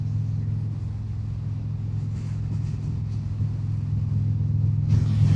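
An Indian Springfield motorcycle rides along a road, its steady low engine rumble droning continuously with wind noise, rising slightly near the end; no talking.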